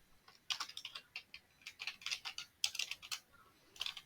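Quick, irregular keystrokes on a computer keyboard come in short bursts while an SQL query is being written, close and fairly quiet.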